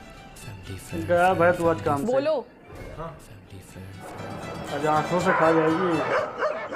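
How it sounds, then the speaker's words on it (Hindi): A dog barks, yips and whines repeatedly and fairly loudly, while people talk over it throughout. "ये कुत्ता इतना क्यों भौंक रहा है यार?"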